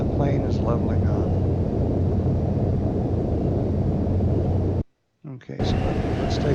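An Airbus A320 in Microsoft Flight Simulator X drones with a steady, dense engine and wind roar, briefly cutting out before resuming as a voice talks over it.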